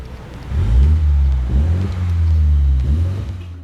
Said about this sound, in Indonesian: Sekarang kita geber-geber sedikit mungkin ya, biar tambah asyik.